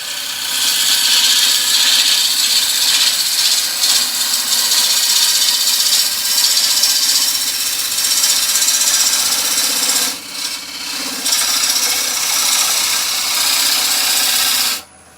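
Wood lathe turning a pestle, shaped with a 12mm (1/2 inch) gouge, giving a continuous loud hissing, rasping cut over the motor's hum, briefly easing near the ten-second mark before the cut stops.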